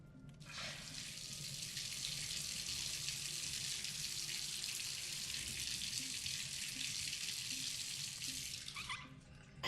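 Hot water pours steadily from a tap in the video game Myst, a continuous hissing rush that starts abruptly, holds evenly for several seconds and then cuts off, close and alone with no voices.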